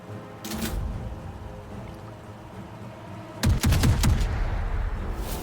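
A burst of gunfire in a WWII video game, several sharp shots clustered near the end with a loud report and ambient battle noise around them, no talking.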